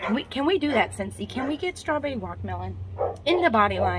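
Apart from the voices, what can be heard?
dog barking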